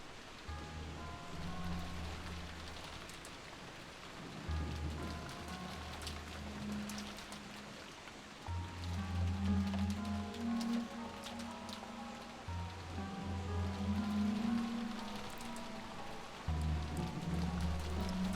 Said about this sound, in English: We can't do anything except pass the time listening to the sound of the rain until tomorrow morning.